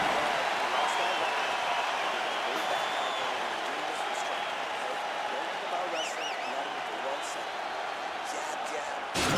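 Arena crowd at a heavyweight MMA fight roaring and cheering steadily after a five-minute round ends, a loud, sustained wash of noise with scattered whistles and shouts throughout.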